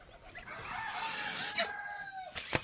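Domestic geese with newly hatched goslings give a soft, high chirping and calling close by, which rises over about a second and ends with a few short sharp calls.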